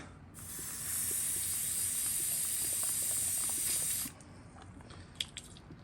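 Airbrush gun being cleaned out while custom painting a soft plastic crawfish fishing lure, giving a steady loud hiss of air for several seconds that cuts off abruptly, followed by a few faint clicks.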